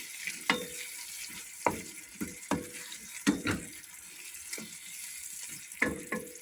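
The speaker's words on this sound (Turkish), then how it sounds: "Mantarımı şöyle bir karıştırıyorum." Wild mushrooms seasoned with salt sizzle in a pan while being stirred, with repeated scraping strokes of the utensil against the pan over a steady, quiet frying hiss.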